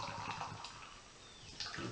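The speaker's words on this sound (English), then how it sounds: "So I'm going to pour this pint in my canonic pint glass." Beer pours from a can into a pint glass, a quiet, steady liquid trickle and gurgle with a few faint splashy bursts near the end, close and low in level.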